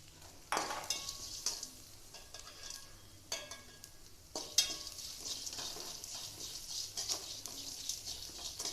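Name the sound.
onions with salt being sautéed and stirred in a pan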